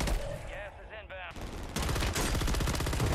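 Rapid automatic gunfire rattles out in dense bursts in Call of Duty Warzone, with a short lull before the shooting resumes continuously, loud and near, with a voice talking over part of it.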